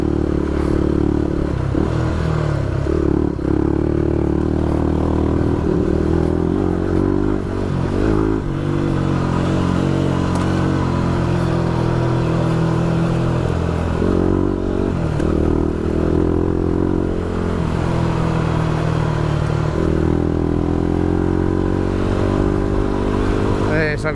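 A trail motorcycle runs continuously and loud through the forest tracks of Barrington Tops, its engine droning and shifting in pitch as the rider eases off and on the throttle, with clattering and scraping over rough ground.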